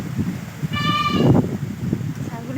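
A goat, startled by a sudden gust of wind, lets out a single clear bleat mid-clip, heard close by amid people talking and a breezy background.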